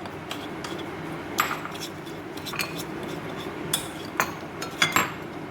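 Metal spoon clinking against a bowl while mixing chicken shashlik marinade, repeated light irregular chinks and scrapes at close range over a steady background, with no talking.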